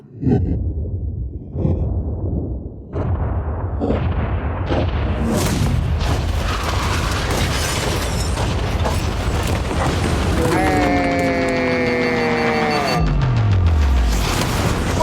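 A yacht is blown up in an explosion: booming blasts and rumbling debris roll on continuously, while descending whistling tones and a deep falling rumble close out the loud, dense sequence.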